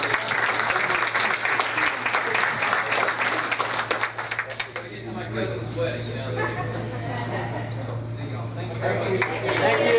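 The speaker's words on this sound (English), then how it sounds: "if we could have a round of applause for him" Audience at a banquet hall discussion gathering applauds a departing speaker, steady dense clapping for about five seconds that thins into murmuring crowd chatter and room noise.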